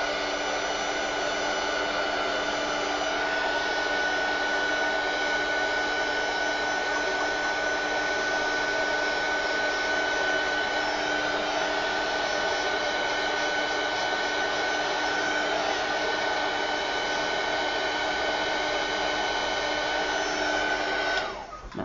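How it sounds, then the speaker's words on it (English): Heat tool blowing hot air over wet craft paint, a loud continuous whirring hiss that holds steady and cuts off at the very end. "I'm going to grab a heat tool and just give it a quick blast"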